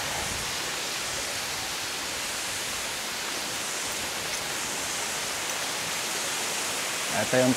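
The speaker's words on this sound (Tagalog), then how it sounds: "pinaka waterfalls dito. So mga idol, dito na tayo sa Batlag Falls." Batlag Falls waterfall in Tanay, Rizal, heard up close as a loud, dense, unbroken roar of rushing water that fills the whole clip.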